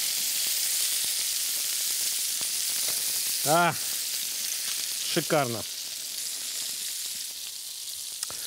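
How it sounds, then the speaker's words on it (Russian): Flour-coated minced meat patties fry in olive oil with a steady, bright sizzle close by, continuing throughout while a voice speaks briefly over it. "Из фарша формуем котлетки, панируем их в муке и обжариваем на оливковом масле."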